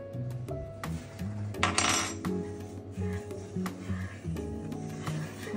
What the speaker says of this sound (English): We're gonna stir this in gently, and then we're just gonna leave it alone.